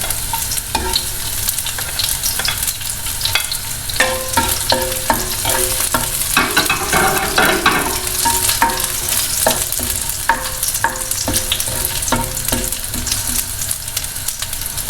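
Garlic sautés in a pan for a salmon belly sinigang sa miso, a steady close sizzle with frequent scraping and clinking of a spatula stirring, and no voices.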